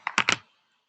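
Several quick key clicks typed on a computer keyboard, with three distinct close strikes in a short burst, then silence.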